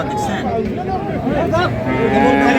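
A farm-ready bull at a busy cattle market lows loudly and close, a long drawn-out moo with wavering pitch. Crowd voices murmur faintly in the background.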